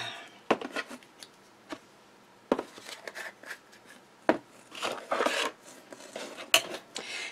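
Small plastic containers of embossing powder are snapped shut one after another at a card-making desk, giving a series of close, sharp clicks and clacks with quieter rattling and handling noise in between.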